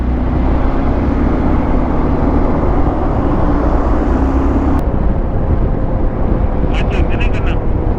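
A motorbike ridden along a road toward Karjat: loud, unbroken wind roar and engine rumble throughout, with a brief faint chirping near the end.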